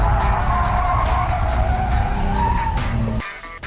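A car sliding with the e-brake pulled while drifting, tires skidding in a loud continuous squeal over engine noise that drops away abruptly near the end.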